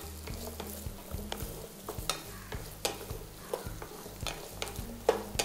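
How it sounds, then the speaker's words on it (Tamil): Small onions stirred and frying in a pan for mutton chukka, a steady sizzle broken by repeated sharp scrapes and clinks of the spoon, close and moderately loud, with no talking. "சின்ன வெங்காயத்தை நல்லா வதக்கிக்குவோம்."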